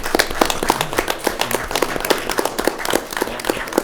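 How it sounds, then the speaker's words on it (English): Applause at an Odessa city council meeting honoring a University of Texas Permian Basin graduate, a smaller group of distinct, sharp individual claps in quick irregular succession, close and fairly loud. "Let's give her a round of applause and congratulations."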